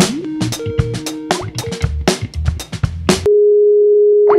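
A telephone call to Miami, America, from abroad: a rapid run of dialing tones and electronic beeps, then a long steady ringback or line tone, loud and close with no voices.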